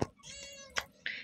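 A pet cat meows twice up close, a drawn-out tonal meow followed by a short higher one, clear against a quiet background.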